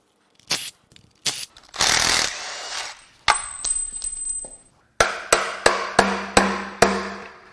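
A ratchet works loose the lower timing cover bolts on a Jeep Ram 3.0 EcoDiesel engine: scattered metallic clanks and scraping, then a rhythmic series of sharp, close ratcheting clicks.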